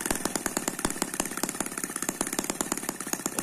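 An Eachine ET5S twin-cylinder model engine runs with a rapid, buzzing staccato of firing pulses, loud and close, its speed wavering slightly.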